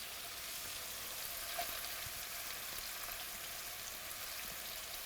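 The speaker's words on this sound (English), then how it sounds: "we saute the onion a little bit together with the sausage" Onion sautés with spicy sausage in a pan for Thanksgiving stuffing, producing a faint, even hiss of frying with a few soft ticks and no voice.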